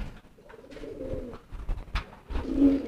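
Pigeons cooing during night-time courtship (giring), a few soft, low, throaty coos close by, with faint rustling and background noise between them.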